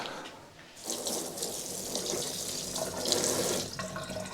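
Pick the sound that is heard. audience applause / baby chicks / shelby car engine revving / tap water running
tap water running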